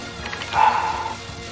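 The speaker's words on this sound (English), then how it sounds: "A dog is barking outside." A dog barks outdoors in a short muffled burst of a few yips, mid-distance and moderately loud, with no one talking.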